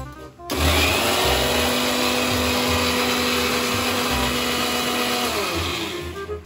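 A mixer grinder runs in a home kitchen during momo preparation, a loud, steady motor whir with a high whine that starts abruptly and continues for about six seconds before easing down.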